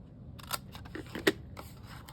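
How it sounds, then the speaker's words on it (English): Scissors cutting paper straight across along a score line, a few short crisp snips and rustles at close range, quiet and without talking. "let's go ahead and cut on the score straight across"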